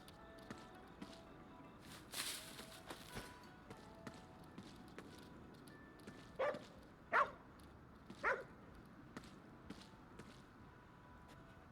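A dog barking in a video game, a few short separate barks and yips spaced over several seconds, moderately clear above a quiet, faintly noisy background.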